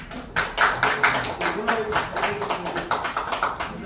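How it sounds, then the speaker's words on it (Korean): Audience applause at a Korean community cultural school event honoring a national assembly member, a dense spread of hand claps continuing throughout over room reverberation. "박수 한번 보내주시면 감사하겠습니다"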